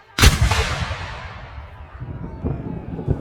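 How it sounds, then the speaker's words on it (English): Dramatized gunshots in a staged French Revolution storming-of-the-Bastille scene: a loud sharp blast with a long booming decay, followed by several fainter, more distant shots, with no talk. "Then the gunshots were fired."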